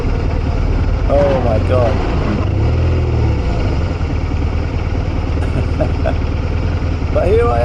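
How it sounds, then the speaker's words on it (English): A cheap £1,500 eBay motorcycle's engine runs loud and rough throughout while it is ridden on a cold winter commute, with wind noise and a rider's brief exclamation over it. "I have to admit, the engine sounds very rough. Can you hear it?"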